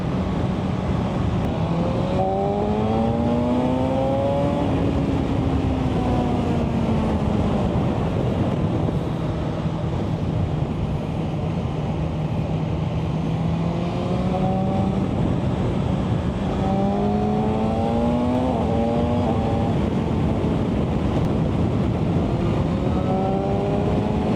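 A BMW M1000XR sports-touring motorcycle ridden in road mode along an open flowing road: a continuous loud engine drone that rises and falls with throttle, wrapped in heavy steady wind rush, with no voices.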